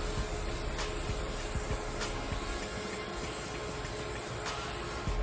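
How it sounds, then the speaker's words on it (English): Makeup setting spray misted onto a face, a steady continuous hiss running throughout at close range with no talking. "the first spray I spray a lot because my lashes is not on, everything is not on yet, so it's easier to spray a lot"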